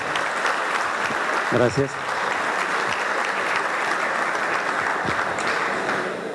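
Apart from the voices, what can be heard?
audience applause for a priest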